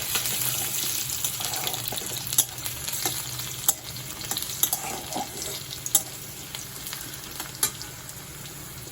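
Chopped garlic fries in a pan for a pumpkin and prawn dish, with a steady sizzle and scraping stirs that come through as sharp, irregular clicks of the utensil.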